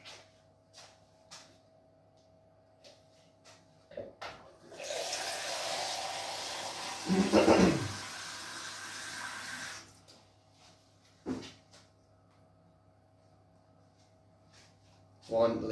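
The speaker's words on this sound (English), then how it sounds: "Add 1 liter of water." A liter of water poured into a container in a quiet room, a rushing splash lasting several seconds that swells midway, framed by faint clicks and handling knocks.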